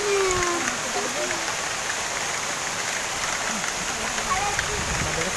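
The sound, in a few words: rain falling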